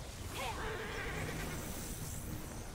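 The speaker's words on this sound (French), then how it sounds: "je demande mon cheval" Horse in the video game Immortals Fenyx Rising whinnying once near the start when called, a short high neigh followed by faint hoof and game ambience, with a quiet voice in the background.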